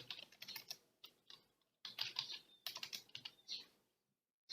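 A search query typed on a computer keyboard while using Dynamo software: quick runs of soft clicking keystrokes in several bursts separated by brief pauses, close and quiet, with no voices.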